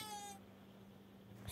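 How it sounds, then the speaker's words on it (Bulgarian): A cartoon cat meows from a television, a single short meow at the start over a steady room hum, with another faint sound near the end. "Сигурно котката, защото приказката беше с някаква котка."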